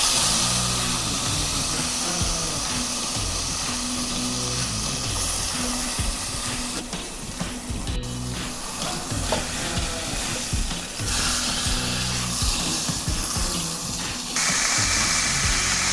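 Thick pork chops sizzle loudly in a frying pan, a steady close crackle and hiss that runs throughout, with occasional sharper pops and scraping as the meat is moved or flipped, and no talking.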